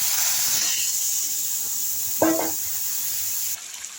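A paste of onion, ginger, garlic and tomato goes into a hot pan with a bay leaf, setting off a continuous loud hiss and sizzle of frying with a short bubbling spurt partway through.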